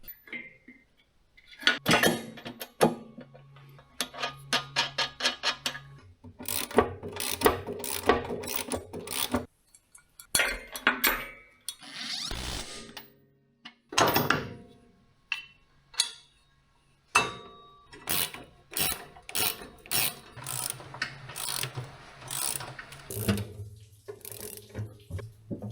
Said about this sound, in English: Let's get them bolted on so this tray is finally mounted.